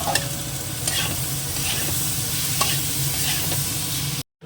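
Potatoes, chili and onion fry in a pan with a constant loud sizzle and occasional stirring scrapes, then a sudden cut to silence at the end.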